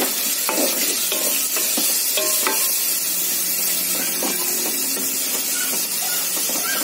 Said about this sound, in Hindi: हम ऐसा लाइट ब्राउन हुए तक हम ऑनियंस को ऐसा हिलाते रहेंगे, नहीं तो ऑनियंस जल जाते।